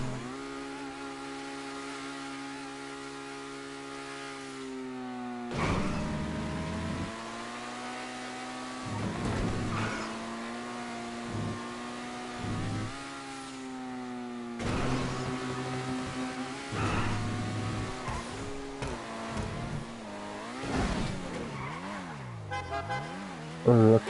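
Race car engines in the racing game GTA V Online whine and rev continuously, their pitch climbing and dropping sharply through repeated throttle bursts and gear changes over about twenty seconds.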